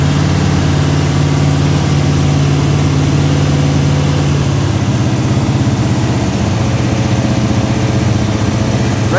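A Pontiac's engine idles close by at around 1,200 RPM with a steady low rumble and a faint rhythmic chug, loud and unchanging, with no one speaking.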